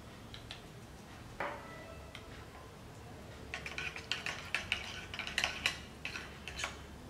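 Butter, brown sugar and dried herbs are being mixed in a bowl for garlic bread, giving a run of light clinking and scraping taps from a utensil against the bowl, quiet at first and then quicker and more frequent.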